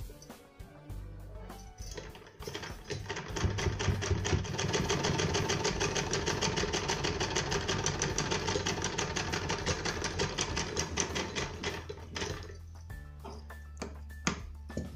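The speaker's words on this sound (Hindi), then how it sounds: "अब हम यहाँ पर बिल्कुल 1 फुट का गैप देते हुए एक सिलाई और लगाएंगे।" A sewing machine stitches a sleeve in a steady, rapid mechanical whir lasting about nine seconds, with quieter handling and clicks before and after the run.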